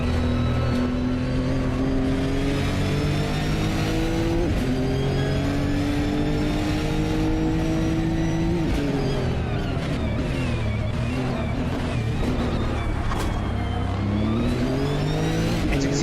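GT3 race cars lapping the Sepang circuit in a racing video game, with a loud, continuous engine drone that climbs and falls as the cars accelerate and shift, steady throughout with no gap.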